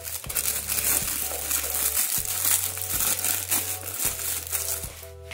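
Small plastic bag crinkling as it is filled during homemade chocolate capsule preparation, steady rustling close up throughout with brief crunchy bursts and no talk.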